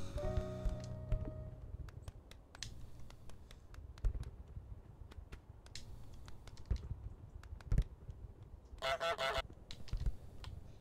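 Goose honks from Untitled Goose Game ring out as short repeated calls over a busy backdrop of game sounds, with one louder honk burst standing out near the end.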